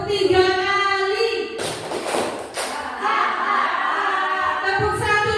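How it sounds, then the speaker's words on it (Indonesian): A group of people clap three times together during an Indonesian junior high school teachers' session. The claps are a dense burst of slaps, set between stretches of chanting and talking voices. "Tepuk 3 kali."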